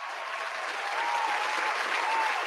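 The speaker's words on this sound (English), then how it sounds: "Let's go ahead and give this man a round of applause." Studio audience applause on a sports talk show, a steady, fairly distant wash of clapping that holds even and unbroken with no voices over it.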